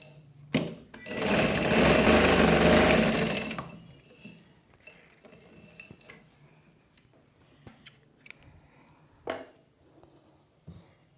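A sewing machine stitches a seam on a baby girl's frock in one loud, fast continuous run of about three seconds, then stops, leaving faint handling clicks and rustles.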